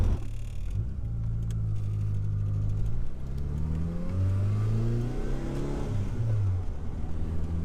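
Mitsubishi Eclipse GSX engine revving in a series of throttle pulls during a boost leak test, with rising and falling harmonic sweeps over a steady idle, loud and close with no talking.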